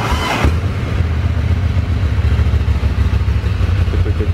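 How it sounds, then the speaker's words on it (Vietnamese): A Ducati motorcycle engine starts indoors with a sharp burst and then runs loud and close in a rough, clattering idle that throbs steadily without talk. "Đưa nổ con này cho anh em nhé."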